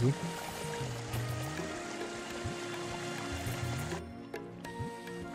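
Spring water runs out from between stones on a hillside, a steady close gurgle and trickle with a constant wash throughout; faint voices and a steady tone sit beneath it.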